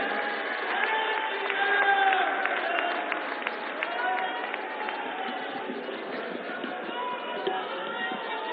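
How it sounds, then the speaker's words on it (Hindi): At a BJP slum-leaders' conference in Delhi, a crowd welcomes Home Minister Amit Shah with applause, heard as a sustained, thin-sounding wash of clapping and crowd noise with some voices mixed in, fairly even throughout. "एक बार जोरदार तालियों से अभिनंदन।"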